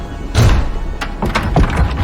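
A main door swings open as a sound effect in a spooky story narration, with a thudding bump at the start and then creaking, clattering knocks, loud and close with no talk over it.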